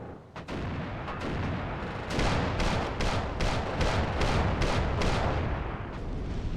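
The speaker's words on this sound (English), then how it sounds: "Again with the getting bombed. Oof, that was a rough one there." Bombs explode in rapid succession during an aerial attack in Armored Brigade 2, a dense, loud roll of blasts and impacts that merge into a continuous rumble with sharp repeated strikes near the end, no talk.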